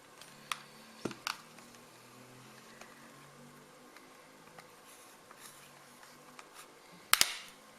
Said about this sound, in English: You hear a clicking sound.